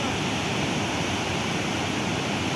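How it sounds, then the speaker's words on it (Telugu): Canal water rushing through partly lifted sluice gates, a loud, constant, broadband roar with no breaks, close and filling the whole clip. "గేట్లు అయితే కొంచెం పైకి ఎత్తారండి వాటర్ అయితే చూడండి అసలు ఎలా వస్తుందో"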